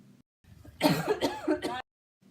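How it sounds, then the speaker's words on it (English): A dry, hacking cough: several harsh, rasping bursts run together in one close fit, with silence before and after. "A dry, hacking cough."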